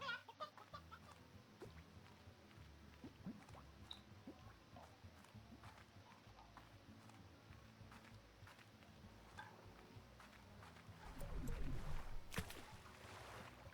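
Chickens cluck softly in the farming video game Slime Rancher, scattered faint clucks with light game sounds and a brief louder swell near the end.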